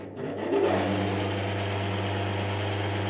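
A TV-6 lathe motor starts and then runs at a steady, even drone, close by and moderately loud, with a constant low hum beneath it and no talking.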